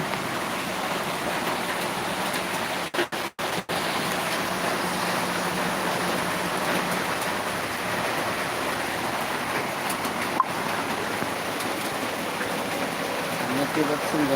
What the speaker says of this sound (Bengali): আল্লাহ পাকে রহমত বৃষ্টি হচ্ছে